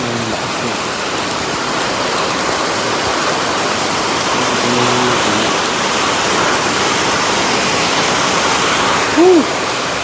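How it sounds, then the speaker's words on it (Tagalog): Heavy rain pours down in a continuous loud roar, steady throughout, with a short faint tonal sound near the end. "Sa ating ulan yun, ang lakas na."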